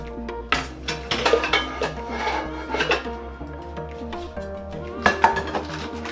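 Cutting a Trader Joe's chicken sausage on a plate, with several sharp clinks and scrapes of cutlery against the dish in irregular bursts, close and clear, with quiet pauses between strokes.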